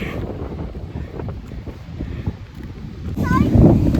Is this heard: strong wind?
yes